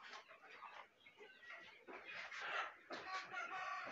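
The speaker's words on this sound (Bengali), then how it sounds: "এটা হচ্ছে মুরগি।" Native country chickens on a farm flock cluck and call in overlapping bursts at a moderate distance, with some faint background voices mixed in.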